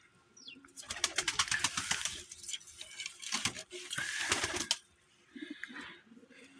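Pigeons in a loft stir and call, with bursts of wing flapping and scuffling, then soft cooing near the end.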